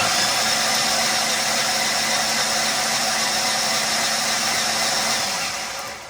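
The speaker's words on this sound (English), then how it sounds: "I'm gonna go inside, I'm gonna crank the engine" A Ford Explorer engine drones as it cranks continuously with zero compression, a smooth even whir with no firing beats, fading slightly at the end.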